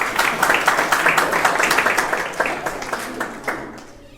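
An audience at a Hindi kavi sammelan claps to welcome a poet, a dense burst of applause that fades over about four seconds.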